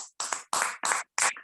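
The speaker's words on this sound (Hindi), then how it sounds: "फ्रेंड्स मेरी हेल्प कीजिए उनका यहाँ पर वेलकम करने में जोरदार तालियों के साथ में" Brief bursts of applause from an audience at a skin care training session, welcoming Director Devendra Patel from Kanpur; four short, loud rounds of clapping with gaps between.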